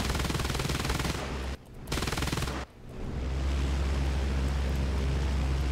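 Sustained machine-gun fire from a Dutch Fokker T.V bomber's rear gunners in War Thunder, loud and continuous, broken by two brief gaps before the dense rattling resumes under a low engine drone.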